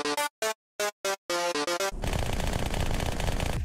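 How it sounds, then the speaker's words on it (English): Halo 2 SMG firing in the video game: short separate bursts of rapid shots, then a long unbroken spray of automatic fire, loud and close. "It's Halo 2 SMG."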